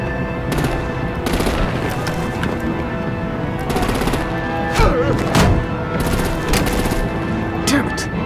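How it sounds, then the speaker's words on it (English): Artillery and rapid gunfire open up on vehicles in Batman: The Enemy Within, dense bursts of automatic shots and heavy thuds repeating over a continuous loud action backdrop. "Break out the artillery and disable their vehicles!"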